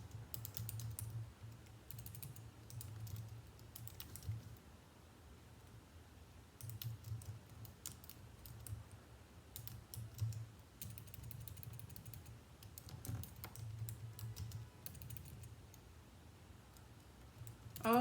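Soft, steady clicking of keys on a computer keyboard whose Y key is broken, with a faint low hum in the background and quiet, close, irregular keystrokes and no speech.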